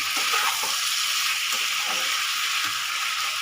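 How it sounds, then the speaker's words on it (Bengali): Potatoes frying in a pan for chilli potato, a continuous soft hiss and sizzle held at an even, moderate level for the whole stretch, with no voices. "একটু ভেজে নিচ্ছি, একটু ভেজে নিলে জিনিসটা ভালো লাগবে।"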